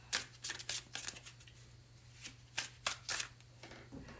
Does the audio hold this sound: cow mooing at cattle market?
no